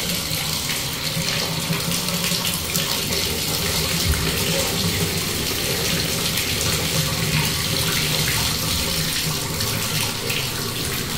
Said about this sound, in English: I'm just going to test this out to see if we get some cold water.